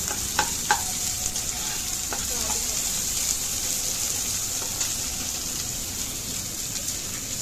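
Nigella seeds and chopped onion fry in hot oil in a pan, giving a steady, close sizzle with a few scrapes from stirring early on and no talking.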